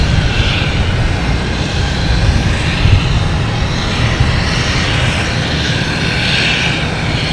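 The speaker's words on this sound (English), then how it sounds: "Next we have a takeoff of JetBlue flight 2251, an A320 heading to Orlando." A JetBlue Airbus A320 jet takes off at Boston Logan Airport, its engines making a loud, steady broadband roar that stays close and sustained throughout, with no voices heard.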